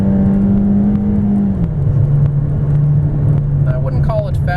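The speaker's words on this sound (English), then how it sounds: "Here we'll do a 0 to 60 acceleration pull with the AC on, going up a hill to see how fast we can get to 60" The 1.6 liter four-cylinder EcoBoost engine of a 2013 Ford Escape SE drones steadily while accelerating uphill with the air conditioning on, its pitch easing down around a gear change, heard from inside the cabin with a brief chime near the end.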